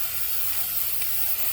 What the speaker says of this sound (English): I don't know how much spray paint is left